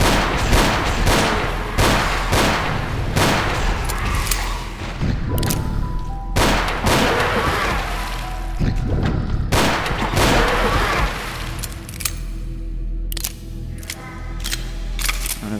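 Gunfire in the video game Ashes: Afterglow, a post-apocalyptic city setting, with loud repeated shots in irregular bursts and sharp booming reports, plus scattered impacts and mechanical clicks throughout.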